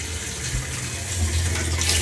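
Cold water rushing through the inlet valve into a Whirlpool direct drive washing machine, a steady hissing fill that grows slightly louder, heard alone.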